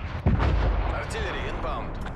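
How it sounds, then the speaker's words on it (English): Artillery fire in Call of Duty Cold War multiplayer, one loud close boom followed by a rumbling roll. "Hostile artillery targeting active."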